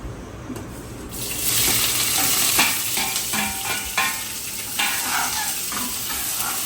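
Onion frying with fenugreek leaves in a pan sizzles steadily after a quiet start, with scraping stirs and clinks of the spoon scattered throughout, close and fairly loud.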